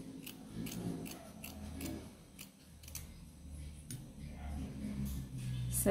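Scissors snip through folded felt, a series of crisp close cuts in an uneven rhythm over a low room background.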